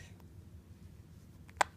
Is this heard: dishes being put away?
no